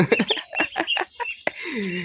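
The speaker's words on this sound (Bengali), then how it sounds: "এই যে এই দুটো হাঁসের বাচ্চা আমি নিয়ে এসেছি আজকে" A series of short, high peeping calls from young desi ducklings, close and lively, with one longer wavering call near the end.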